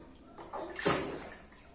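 Water splashes in a short burst as a child splashes in a swimming pool, a brief swish and slap of water close by, against a quiet background.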